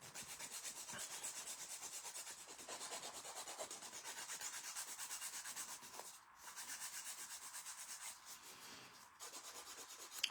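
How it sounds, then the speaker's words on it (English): Glitter-polished fingernails being filed with a nail file, a close, steady rasping of back-and-forth strokes that runs continuously, with a brief pause near the middle and no talking. "you're not sitting here for 45 minutes watching me file my nails"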